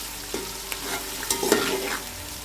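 A large onion frying in a pan and being stirred, with a steady sizzle under a few sharp scraping strokes close by and no talk.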